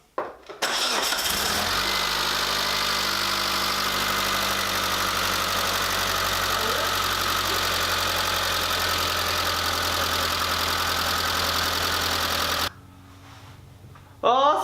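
A Mitsubishi 4G64 engine runs steadily just after its first start, a loud continuous idle drone that holds for about twelve seconds and then cuts out abruptly, with brief voices at the very beginning and end.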